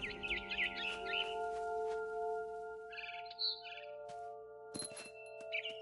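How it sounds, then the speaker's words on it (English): A barn swallow in the video game What Remains of Edith Finch gives short bursts of quiet chirping over a soft, sustained tonal background. "Then I heard chirping outside my window. It was a barn swallow going back to her nest."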